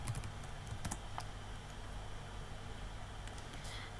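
Typing HTML title tags on a computer keyboard: steady, quiet key clicks over a constant background hiss, with a few slightly sharper taps.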